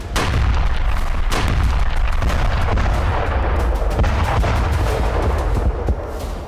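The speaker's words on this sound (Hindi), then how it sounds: "गाजा में इजरायली सेना की बमबारी बहुत तेज हो गई है।" Israeli army bombing in Gaza, heavy booms and rapid sharp blasts in a rolling, continuous barrage of explosions, loud and dense from start to finish.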